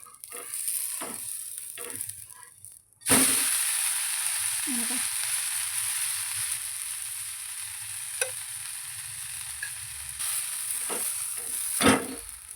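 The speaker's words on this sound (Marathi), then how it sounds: "उत्तप्पा हा मी दोन्ही बाजूनी फ्राय करणार आहे म्हणजे इकडच्या बाजूने पण आता आपण हे पलटून घेऊया" Sizzling and frying of an uttapam in a hot pan, a steady broad hiss running through most of the clip, with a brief pause near the start and a few small clatters as it is flipped.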